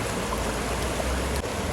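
Strong, forceful stream water rushing steadily at a trekking spot near Jellipara viewpoint in Attapadi, a loud continuous broadband roar close by with no talk.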